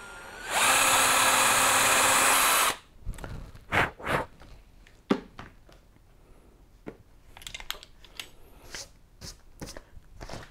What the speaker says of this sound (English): take our drill with a small drill bit, and we're going to drill 2 pilot holes in the stock